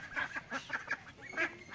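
Fifty-seven-day-old farm ducks quack in a quick series of nasal calls, several birds close by calling over one another.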